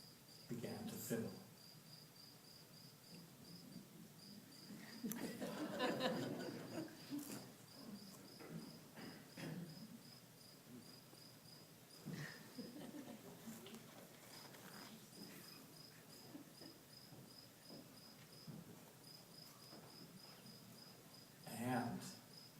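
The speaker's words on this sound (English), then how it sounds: "the littlest cricket began to fiddle" Crickets chirp in a steady, high-pitched pulsing trill through most of the scene, carrying on under a narrator's storytelling voice and soft background rustles.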